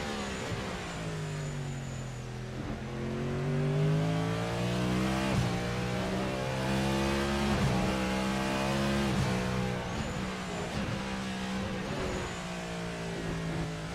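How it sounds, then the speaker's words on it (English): Race cars at the Bahrain 2.4-hour event pass on track, engines droning and rising in pitch as they accelerate, with overlapping cars and gear shifts at moderate distance; no voices are heard. "Was a beautiful overtake indeed, Christina."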